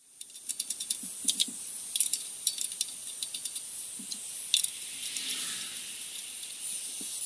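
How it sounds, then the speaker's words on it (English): Lug nuts being hand threaded and tightened onto a Jeep wheel during a tire rotation, a series of quick ratcheting clicks in bursts over a quiet hiss, fairly faint, with no talking. "Hand thread the lug nuts back on and then tighten them up, but not too tight."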